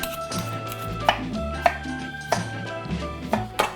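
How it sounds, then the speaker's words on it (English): A knife cuts pared and cored apples into eighths for an 1896 Fannie Farmer apple pie, giving several crisp chops on a board spaced about a second apart over a low steady hum, close and with no talk. "I gotta pare and core and cut the apples into 8ths"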